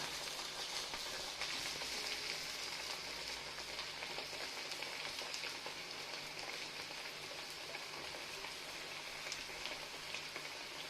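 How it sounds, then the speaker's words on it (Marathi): Urad dal medu vada deep-frying in oil, with more oil poured gently over the top, gives a steady, dense, rain-like sizzle and bubbling that runs unbroken and fairly soft throughout. "आणि ह्या वड्यावर आपल्याला वरतून हळूहळू तेल सोडायला लागतं"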